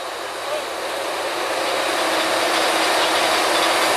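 A drilling rig's drawworks winch runs steadily at Bynum Well #4, a dense continuous mechanical roar and hiss worked by the brake man, loud and unbroken with no speech.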